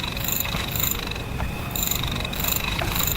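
AI-generated nighttime crickets chirp in rhythmic pulsing bursts, high and shrill, over a constant hissy outdoor ambience with no talking.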